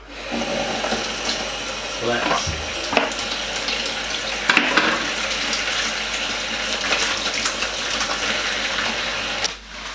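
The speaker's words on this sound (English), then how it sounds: "the first step I think is to give my hands a thorough wash" Hands being washed under a running kitchen tap before baking a cake, a steady close rush of water with splashes and a couple of small knocks, stopping near the end.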